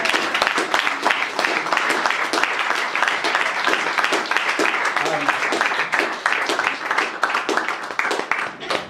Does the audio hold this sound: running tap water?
no